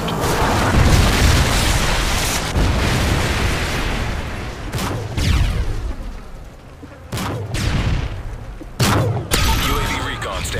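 Predator missile strikes in a Call of Duty-style shooter, a loud close barrage of booming explosions with several sharp blasts standing out over rumbling battle noise.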